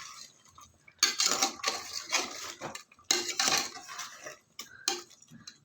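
Brinjal fry is mixed in a pan with bursts of spatula scraping and clattering against the metal, separated by short pauses, close and fairly loud.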